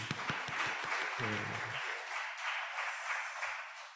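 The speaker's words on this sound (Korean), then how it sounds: "일단 환영의 박수를 드리고 소개를 한번 드리도록 하겠습니다" Welcoming applause from a church congregation for visitors at a Sunday service, a soft, fairly distant patter of clapping that holds steady throughout, with a brief murmur of voices near the start.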